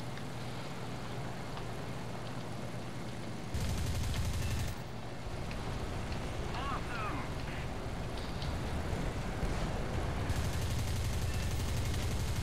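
Aircraft gunfire in War Thunder rattles in short automatic bursts over a constant engine drone, loud and close, with the bursts breaking out at intervals.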